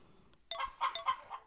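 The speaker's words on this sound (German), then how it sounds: "Also die Hühner mögen mich auf jeden Fall alle schon maximal." Soft chicken clucks from the farming video game Harvest Moon: Back to Nature, a short burst of three or four faint clucking calls heard alone.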